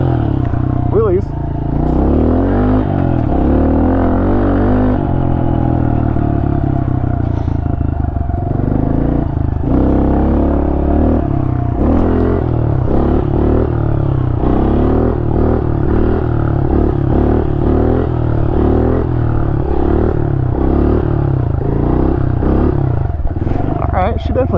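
A 2023 Honda CRF110 dirt bike with stock sprockets, its small engine revving loud and steady throughout during wheelies, with a rough, continuous drone that rises and falls slightly, close to the mic.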